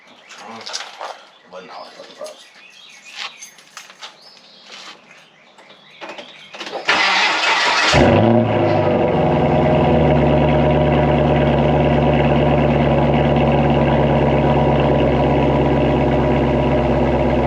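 A car with an X-pipe exhaust cold-starts after a stretch of outdoor chatter-free background with birds, cranking briefly then roaring up loudly and settling into a steady, raspy high idle up close.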